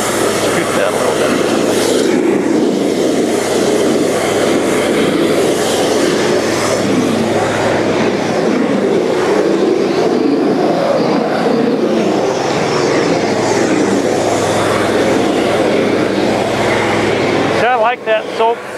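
A cold water jetter's engine runs loud and steady, a continuous broadband roar close by that holds for the whole stretch with little change.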